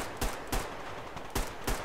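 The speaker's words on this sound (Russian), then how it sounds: "Чтобы пистолет во время выстрела не подбрасывал ствол." Four sharp TT pistol gunshots in the shooter game Survarium, fired in two evenly spaced pairs, loud and close over a steady hiss of background noise.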